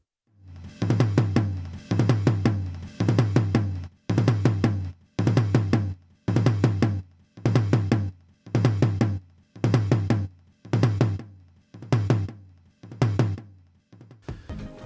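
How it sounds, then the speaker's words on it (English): A rack tom struck repeatedly through a noise gate, about a dozen evenly spaced hits, each cut off sharply after a short decay, played loud and alone with no talking. "with a gate, we can tighten up the sound quite a bit"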